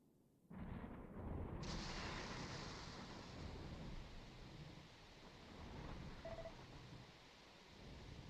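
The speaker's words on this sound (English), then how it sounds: "There's a fierce sound of thunder and lightning from outside the hideout." Thunderstorm outside a hideout in the video game Dragon Quest X: a sudden loud rumbling crash that swells into a sustained roar of thunder and heavy rain, continuing steadily without voices.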